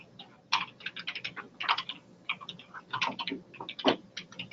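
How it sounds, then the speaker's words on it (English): Someone types on a computer keyboard during a facility planning meeting: close, quick bursts of clicky keystrokes with short pauses between them. "I just do typing."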